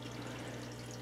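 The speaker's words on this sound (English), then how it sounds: "So the film of water just makes its way through, down the elbow, back around, down the elbow, back around," Water trickles steadily through hydroponic NFT channels and elbow joints and drains back into a continuously pumped reservoir, a soft, even flow with a low hum beneath it.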